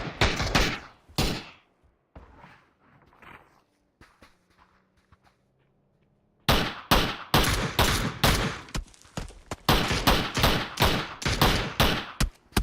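Gunfire in the battle royale game PUBG during a squad tournament match, sharp bursts of rapid shots near the start, a quieter lull, then repeated loud volleys of automatic fire.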